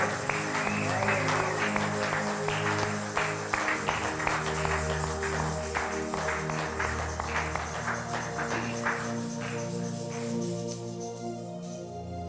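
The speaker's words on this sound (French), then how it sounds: "Est-ce que tu peux acclamer encore le Seigneur?" A church congregation acclaims the Lord with sustained applause, dense rhythmic clapping and cheering layered over worship music, gradually thinning toward the end.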